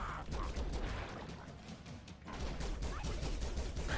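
A pulse rifle fires in the side-scrolling action game Broforce as dense, rapid bursts of shots and crashes over a faint game background, briefly thinning before the barrage picks up again.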